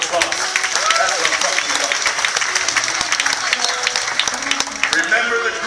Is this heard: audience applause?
yes